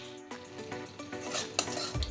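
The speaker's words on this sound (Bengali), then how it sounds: "মশলাটা ভালো করে কষিয়ে নেব" Masala spices, ground and moistened with a little water, are stirred in a pan for an okra and potato curry: a metal spoon clinks and scrapes against the pan in repeated strokes over a soft sizzle, close up with no talking.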